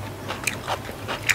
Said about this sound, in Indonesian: Langsung aku cobain jengkol mudanya. Cocol sambal.